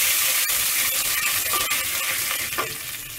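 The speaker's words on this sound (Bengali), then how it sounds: "তেজপাতা দিয়ে কিছুক্ষণ আবার ভেজে নেব" Potato pieces fry in hot oil with salt and bay leaves, giving a steady, close, bright sizzle with occasional stirring scrapes and crackles throughout.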